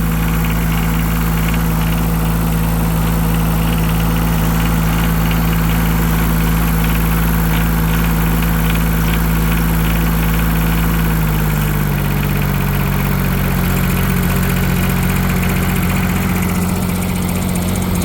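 A Yanmar 3TNV70 three-cylinder diesel with freshly replaced injectors idles steadily up close, a loud, even low rumble with mechanical clatter that holds for the whole stretch, its pitch dipping slightly partway through; no one speaks.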